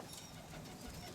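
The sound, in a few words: roller pigeons being let out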